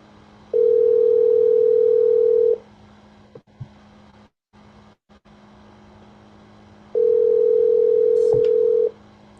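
Two long, steady electronic phone ringback tones sound, each about two seconds, separated by a quiet gap with faint handling noise and a short click.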